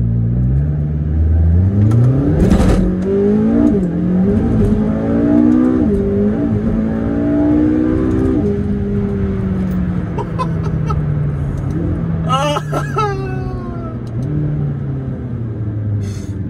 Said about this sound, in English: This time I'm gonna ease off the throttle at the beginning and then give full throttle